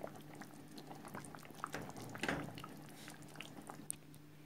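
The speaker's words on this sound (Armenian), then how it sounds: "ահա արդեն եռում է մեր խաշլաման" Khashlama meat stew simmers in a lidded pot on a gas stove, a faint, quiet bubbling with soft irregular pops and gurgles, somewhat busier for a moment in the middle.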